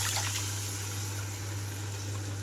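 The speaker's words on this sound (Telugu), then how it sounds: "ఇప్పుడు టమాటో రసం అంతా ఇందులోకి వేస్తున్నాను" Tomato juice pours steadily into a pan for rasam, a soft trickling wash over a low constant hum, with no talking.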